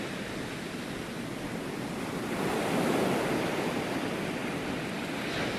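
Ocean surf rolls in along a channel shoreline, a continuous loud wash of breaking waves that swells in the middle and then holds steady, with some wind over the microphone and no talking.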